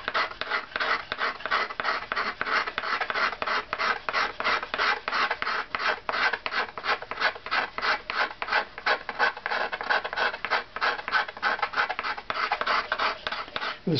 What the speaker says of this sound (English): And we'll try to remove that evenly with a scraper.